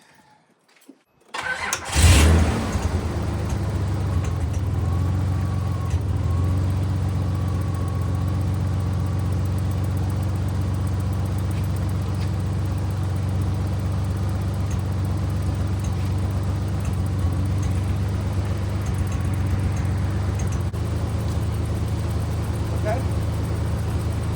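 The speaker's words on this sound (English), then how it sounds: "I want to try to crank it. See if it starts." A 1986 Nissan 300ZX with fresh crank angle sensor, plugs and ignition cables cranks briefly, catches loudly and settles into a steady, rough-sounding idle that drones on for over twenty seconds, close up.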